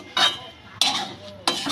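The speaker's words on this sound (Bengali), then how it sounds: "গ্যাসের ফ্লেমটা লো করে দেবেন আর সমানে চিনি দিয়ে নারকেল যেটা মাখিয়ে রেখেছিলাম সমানে নাড়তে হবে।" Coconut mixed with sugar being stirred in a pan over a low gas flame for narkel naru, three bursts of utensil scraping and clinking against the pan, close and fairly loud with short pauses between.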